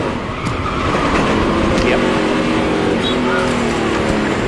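A race car at the 2006 Zippo 200 locks up its rear brakes, its loud engine roar and tyre noise running steadily under commentary voices, with a brief spoken interjection.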